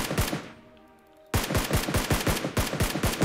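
PUBG Mobile gunfire: a few shots, a short quiet gap, then a rapid, loud burst of automatic fire in quick repeated cracks.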